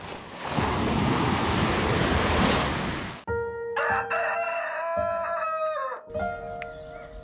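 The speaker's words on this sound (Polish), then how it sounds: "Słyszę jakieś pianie kogutów." Surf rushes loudly for a few seconds, then a rooster crows clearly nearby, its long, wavering call followed by a second shorter crow.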